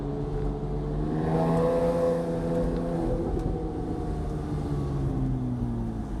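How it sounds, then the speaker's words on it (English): A Porsche 987/997 with an NHP exhaust revs hard and steadily, its engine note climbing and then dipping as the paddle shifter clicks into second gear; the drone is loud and close, with no voices. "So I'll shift to second gear with the paddle, as you can see."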